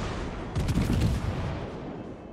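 A short, muffled burst of rapid gunfire from rear gunners in the naval battle video game World of Warships rumbles over steady background game noise.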